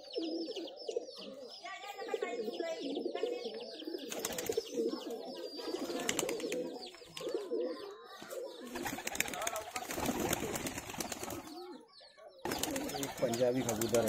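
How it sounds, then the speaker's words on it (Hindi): Punjabi high-flyer pigeons cooing nearby in repeated soft, throaty phrases, with people talking intermittently over the birds. "ये पंजाबी कबूतर है"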